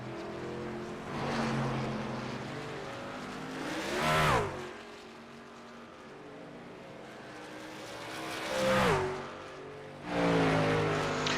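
Pro series race trucks roar past on the oval at New Hampshire Speedway, several loud engine passes that swell and fade with a pitch drop as each truck goes by, with quieter engine drone between passes.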